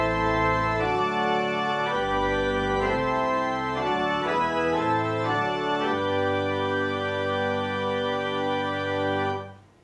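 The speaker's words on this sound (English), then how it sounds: "full principal chorus sounds thus" A residence pipe organ plays its full principal chorus, sustained chords shifting through a short phrase, rich and bright, ending on a held chord that cuts off abruptly.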